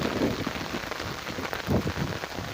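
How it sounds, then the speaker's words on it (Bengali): Steady rain falls during a late-autumn morning shower, making a close, even patter on surfaces with a soft low rumble beneath it. The sound stays alone throughout, with no speech. "সারা রাত বৃষ্টি পড়ছে, টিপ টিপ টিপ টিপ টিপ টিপ টিপ টিপ, এখনও বৃষ্টি ছাড়তেছে না।"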